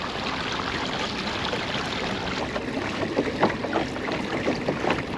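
A motorboat cruises slowly across Long Island Sound in the early morning, with a steady broadband wash of water and hull noise alongside wind buffeting the microphone, continuous and moderately loud with no talk.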